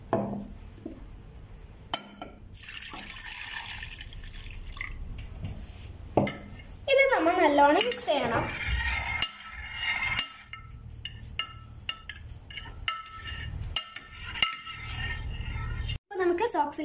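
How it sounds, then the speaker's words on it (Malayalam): Spoon clinking against a bowl while mixing dish soap, water and paint, scattered light clinks and scraping stirs amid a voice speaking and household background noise. "ഇതെല്ലാം മിക്സ് ചെയ്യാനായിട്ട് ഒരു സ്പൂൺ ഒരു ബൗളും ആണ്"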